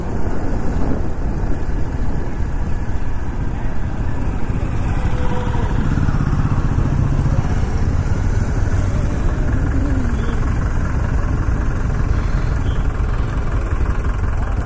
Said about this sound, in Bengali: Vishal bikers group